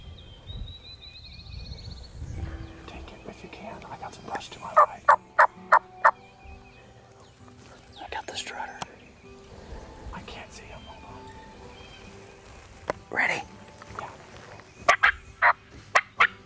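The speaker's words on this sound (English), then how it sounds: "Give a few calls, they gobble" Wild turkeys gobble in a spring field in Missouri, with several bursts of gobbling at a distance between hand-made turkey calls and soft whispering nearby.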